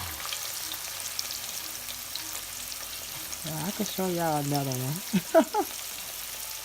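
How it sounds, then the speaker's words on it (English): Pork neckbones sizzle and fry in a pot as pieces are added, a steady close crackle that grows louder and more active toward the end, with a voice speaking briefly over it. "It's the sound of the pork bones sizzling in the pot."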